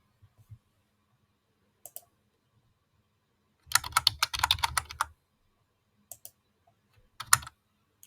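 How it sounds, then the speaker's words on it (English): Bursts of computer keyboard typing while entering a keyword, a few isolated key clicks first, then a dense flurry of keystrokes and a couple of short later bursts, close and fairly quiet with no voices. "And I'll just type in weather."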